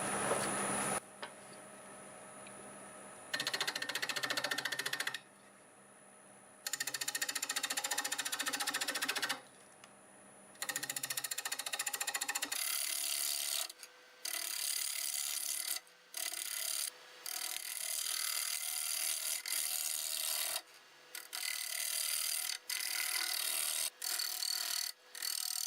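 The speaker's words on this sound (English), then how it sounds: "I'm going to use a 1/2" bowl gouge and just flatten this off, bring everything down to the size I want" A wood lathe spinning a board-glued bowl blank at about 820 RPM while a 1/2 inch bowl gouge flattens it, giving bursts of rough scraping and cutting broken by short pauses, close and fairly loud.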